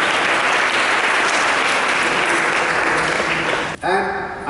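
An audience applauds at a school felicitation ceremony for sports achievers, a loud sustained wash of clapping from many hands that cuts off abruptly, after which a voice begins speaking.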